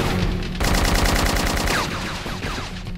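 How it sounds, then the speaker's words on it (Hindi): Rapid machine gun bursts laying down cover fire in an Indian Army fight scene, loud and close, with fast rhythmic shots that thin into scattered firing toward the end. "मैं तुम्हें कवर फायर देता"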